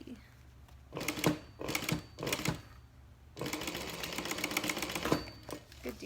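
A sewing machine stitching a bag runs in short whirring spurts, then a longer steady run, close and fairly loud, with pauses between the bursts.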